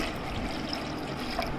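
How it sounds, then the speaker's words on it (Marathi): Two bowls of water pour steadily into yogurt for a sweet and sour dahi kadhi, giving a continuous close trickling, splashing flow at even loudness with no talking. "तर आपण याच्यात पाणी टाकू 2 वाट्या"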